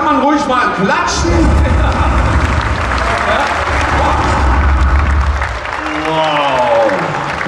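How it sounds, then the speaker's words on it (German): An audience at the Operation Red Carpet action stunt show in Movie Park Germany claps loudly and continuously, a thick crowd roar beneath voices speaking over it at the start and end. "Ja, da kann man ruhig mal klatschen."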